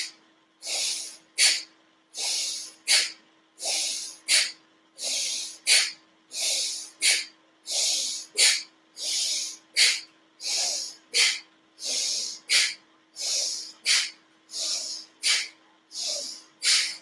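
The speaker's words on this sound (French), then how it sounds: "Expirez bien." Forceful, rhythmic yoga exhalations, close and loud, repeated steadily roughly once a second as sharp hissing breath bursts through the nose with brief pauses between them.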